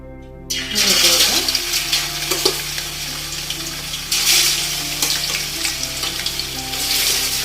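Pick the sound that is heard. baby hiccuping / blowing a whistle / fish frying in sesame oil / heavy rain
fish frying in sesame oil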